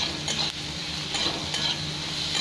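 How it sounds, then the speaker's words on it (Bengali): Onion and green chillies with a little salt sizzling steadily in a frying pan for an egg curry, with a few stirring scrapes cutting through the continuous hiss; no talking. "এবার এতে একটু ভেজে নেবো 2-3 মিনিট।"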